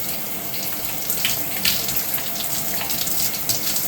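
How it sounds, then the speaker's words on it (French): Steady shower water runs and splashes while shampoo is rinsed out of hair, a continuous close hiss with small shifts in spray, no talking. "Donc là, je rince le premier shampoing."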